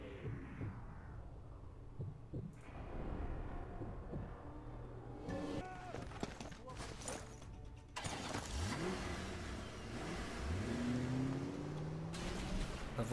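A car engine revs and accelerates in the shooting video game Sniper Elite 3. The engine noise is steady and fairly loud across the whole stretch, with rising pitch sweeps as the car speeds up, plus scattered thuds and game sounds.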